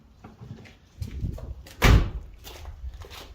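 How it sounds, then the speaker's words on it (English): A car door on an old, 23-year-old two-door 2.5RS is shut with one solid, tight thump, with quieter handling noises before and after it. "Door just shut so good still."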